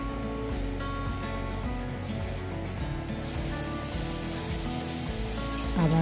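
Potol pieces frying in a pan with black pepper powder and oil, a steady hiss running throughout with no talk, growing slightly louder at the very end.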